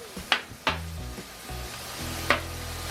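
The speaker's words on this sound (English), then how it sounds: "Let me get this meat browned up a little bit and get it in my pot" Georgia red smoked sausages sizzle as they brown in a pan, with a steady frying hiss and a few sharp clanks and scrapes of a utensil against the pan, no talking.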